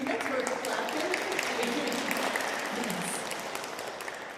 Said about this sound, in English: Yeah, that's worth clapping.